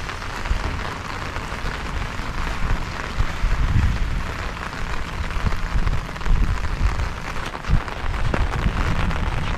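Heavy rain pours over a Japanese village during a storm, a dense, steady hiss of water on surfaces with a low rumbling undertone and no voices.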